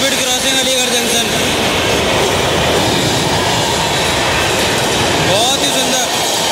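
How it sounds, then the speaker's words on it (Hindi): The New Delhi–Darbhanga Clone Express thunders through Aligarh Junction at high speed, a loud, close, continuous roar of rail wheels with clattering and squeals, and a voice is heard over it. "high speed crossing Aligarh junction"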